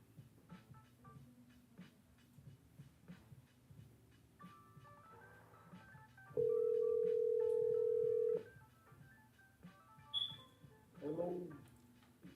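A telephone sounds a steady two-second tone in the middle, like a call ringing out, against a murky room background with quiet voices and a few brief electronic beeps afterward.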